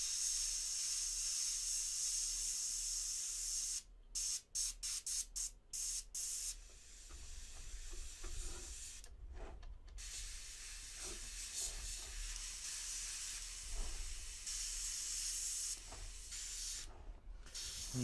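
An airbrush spraying paint onto a figure, a close steady hiss broken by several short pauses as the trigger is released and pressed again.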